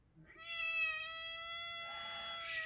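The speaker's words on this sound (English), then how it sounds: "Tired of your cat meowing at 3 in the morning?" A cat meows at night around three in the morning, giving one long, drawn-out, close meow that holds steady for about two seconds before trailing into a breathy end.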